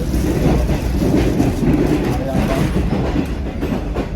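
Continuous low rumble of a train rolling along the rails, with steady rattling and clatter throughout and no talking.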